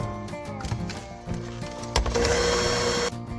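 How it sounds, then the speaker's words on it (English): An electric hand mixer beats dry ingredients into banana bread muffin batter, a steady mechanical whir with rhythmic knocking against the bowl that grows louder and more even partway through, close and continuous. "Now I'm going to add half of my dry ingredients, and I'm going to mix them in"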